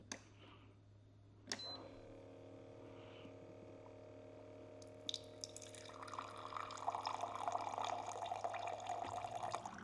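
Hot water dispensing from a JIMMY R9-UV reverse osmosis purifier set to 200, starting with a click and a steady low hum, then water pouring and splashing into a vessel, growing louder toward the end.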